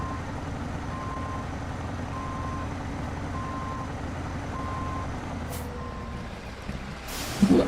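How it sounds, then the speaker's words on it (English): A truck in the SnowRunner video game reverses over a steady engine rumble while its backup alarm beeps at an even, regular pace, and a sharp burst of noise comes near the end. "Reverse back. Beep, beep, beep."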